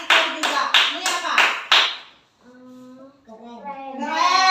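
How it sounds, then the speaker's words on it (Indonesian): Children in a classroom clap for a group in a quick, rhythmic burst of about six claps, then young voices chant or sing loudly afterward. "Tepuk tangan untuk kelompok lebah."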